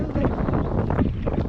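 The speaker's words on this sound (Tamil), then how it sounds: "இளங்காத்து வீசுதே, அழகா" A breeze blows across a flowering hillside near a remote village at Kathiri Malai, Erode, heard as a steady, loud rush of wind buffeting the microphone.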